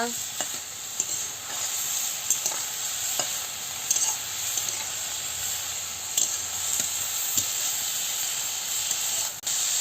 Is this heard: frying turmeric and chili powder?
yes